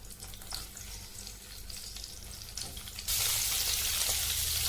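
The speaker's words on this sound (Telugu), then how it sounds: "ఆయిల్ అయితే హీట్ అయింది. ఇప్పుడు ఈ ముందుగా కట్ చేసి పెట్టుకున్న ఈ కాకరకాయలు వేసేసుకోవాలండి." Cut bitter gourd pieces sizzle and fry in hot oil in a pan, with a steady crackle that swells into a louder, dense hiss as more pieces go in.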